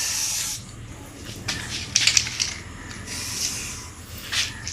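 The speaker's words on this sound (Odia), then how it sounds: "ଦେଖିପାରୁଥିବେ ଯେଉଁଆଡ଼େ ବି ଅଛି ଭିତରେ ଆରାମସେ ଆପଣ ସ୍ପ୍ରେ କରିଦେବେ" Spray paint from an aerosol can applied to a motorbike wheel at home, heard as steady hissing bursts that swell and fade over several seconds, close to the microphone with no talking.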